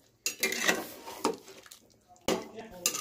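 A spatula stirring mutton curry gravy in a pot: a few short bursts of metallic scraping and clinking, close and fairly loud, separated by quiet gaps.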